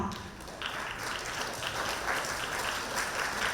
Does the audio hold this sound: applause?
yes